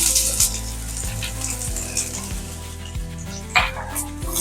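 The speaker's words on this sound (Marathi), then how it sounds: "तेल चांगलं गरम झालं की त्याच्यामध्ये कांदा भाजून घेऊ" Onion frying in hot oil for a Malvani fish thali masala, with a loud, steady close-up sizzle and a few metal-on-pan stirring clinks, no talking.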